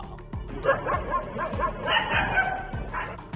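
Stray dogs in a residential street in Chitradurga bark and yip repeatedly in quick, overlapping bursts, fairly close and loud, with a whimpering note among the barks.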